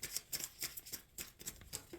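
Quiet riffling and snapping of tarot cards being shuffled, a series of short crisp bursts in quick irregular rhythm, close and faint.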